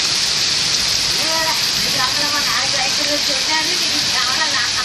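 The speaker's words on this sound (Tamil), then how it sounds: "கோவில்பட்டி அருகே பசுவந்தனை சுற்றுவட்டாரத்தில் 1 மணி நேரத்திற்கு மேலாக கனமழை வெளுத்து வாங்கியது" Heavy rain pours steadily over roads near Pasuvanthanai by Kovilpatti, a dense continuous hiss, loud and close, with faint voices drifting in the background.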